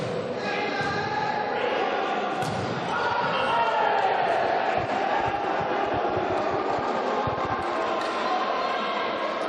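A crowd at a Keele versus Staffs varsity sports match in a loud indoor hall cheers and roars in a sustained wash, with ball bounces and a commentator talking over the din.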